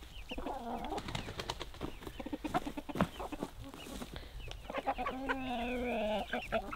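A rooster clucks and murmurs up close in a series of short throaty calls, ending in a longer drawn-out cackle.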